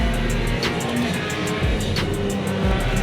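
A Praga race car laps Snetterton in a racing simulator, its engine a steady loud drone with rising revs and two sharp downshift drops as it brakes into corners.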